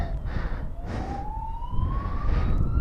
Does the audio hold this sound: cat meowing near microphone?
no